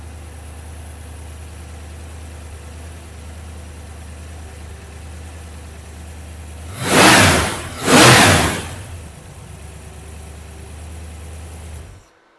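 A Chevy 307 small-block V8 with flat tappet camshaft and mufflers, idling steadily at about 1000 rpm, then revved twice in quick succession before settling back to idle and shutting off.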